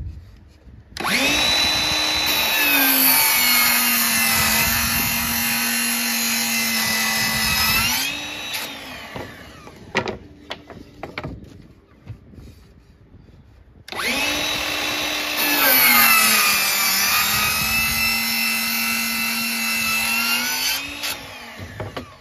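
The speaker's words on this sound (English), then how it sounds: "Let's cut a miter on the one side for both of them." A power miter saw cuts wood trim for an arcade cabinet restoration. There are two loud, close cuts of about seven seconds each, with a whining motor that spins up and winds down, separated by quieter handling noises.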